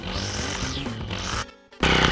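A two-stroke grass trimmer's engine hums at a steady pitch, then briefly drops out before surging back with a loud, harsh roar as it starts cutting.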